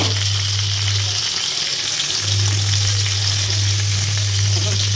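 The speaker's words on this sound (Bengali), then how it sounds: "তো আমি মাছের মাথাটা উল্টে দিচ্ছি, কারণ মাছের মাথা প্রচণ্ড ফোটে তাই জন্য আমি কভার দিয়েছিলাম" A fish head fries in hot oil, spattering and crackling loudly and continuously at close range, with a low steady hum underneath and no talking.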